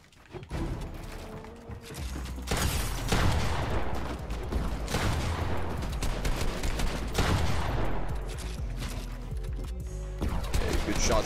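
Rapid gunfire rattles in a Nintendo Switch shooter game, with several dense bursts and volleys repeating across about eleven seconds at a moderate, close level.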